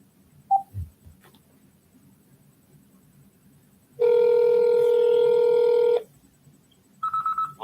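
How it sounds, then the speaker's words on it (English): Outgoing call to a police district's non-emergency line: a single sustained ringback tone of about two seconds sounds through the phone, with a second tone beginning after a short silence and faint background noise. "So let me call this number, the non-police emergency number, to District E13."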